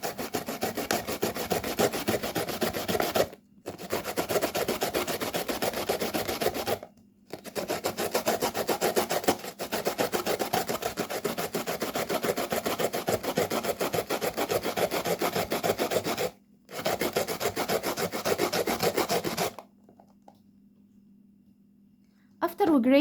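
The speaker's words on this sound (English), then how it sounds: "we need one medium-sized cucumber, and we need to grate it like so," A medium-sized cucumber is grated by hand in steady rasping strokes. The scraping runs continuously with a few short pauses and then stops, leaving a faint hum.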